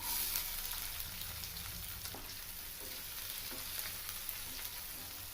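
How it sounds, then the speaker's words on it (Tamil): Onions sauté in hot oil with bay leaf, cinnamon and cloves for a mutton chest-bone curry. The sizzle is soft and continuous and stays close, with occasional stirring scrapes and no voices. "வெங்காயத்தை கொஞ்சம் நல்லா வதக்கிக்கலாம்"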